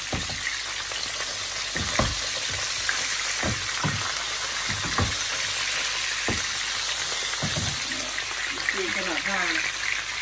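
Food fries in a pan with a constant crackling sizzle and occasional utensil knocks, and a voice is heard briefly near the end.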